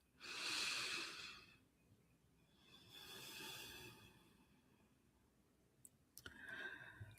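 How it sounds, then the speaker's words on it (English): One person takes a slow, deep breath, a soft inhale and exhale close to the microphone, followed by a couple of small clicks and a second breath, all quiet and alone. "take a deep breath"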